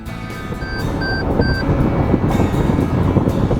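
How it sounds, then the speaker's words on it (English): Three short, evenly spaced electronic lane departure warning beeps sound over steady road and engine rumble inside a moving car crossing a white line. "that beeping is telling me that I'm crossing this white line"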